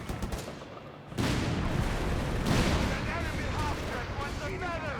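Heavy machine gun fire from a 50 cal roars across a Company of Heroes 3 battlefield in sustained bursts after a brief quieter lead-in, with a dense, rumbling barrage and faint voices in the mix.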